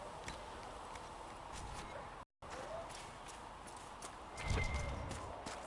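Horse hooves clip-clop softly at a walking pace in the Dragon Age Inquisition video game, a faint steady rhythm under a constant wash of ambient game noise with a brief louder thud near the end.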